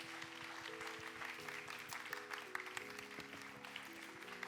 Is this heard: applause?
yes